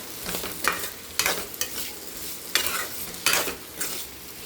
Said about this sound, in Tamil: தகுந்தளவு உப்பு போட்டுக்கலாம். நல்லா கிளறி வைக்கலாம்.